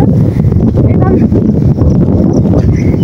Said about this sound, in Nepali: आमामाम कस्तो मजाले हावा चलिरहेछ।